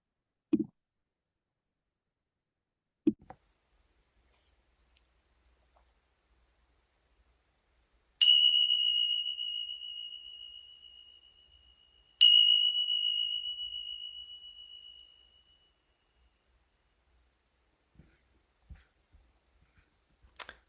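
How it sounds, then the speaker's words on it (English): A mindfulness bell ends a meditation, struck twice a few seconds apart. Each clear, bright ring fades slowly into a quiet room, with only a few faint taps and rustles around it. "And when you hear the sound of the bell, you can open"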